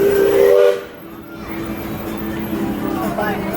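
An amusement park train at Hershey Park sounds a clear, tonal whistle that cuts off after a brief blast, followed by lingering hiss and ambient park noise, with people talking nearby.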